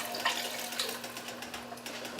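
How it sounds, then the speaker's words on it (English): Hot water poured into a gumbo pot holding beef bouillon cubes, a steady soft splashing and trickling flow that runs continuously at moderate level with no talk over it. "And then we're going to add 4 cups of hot water"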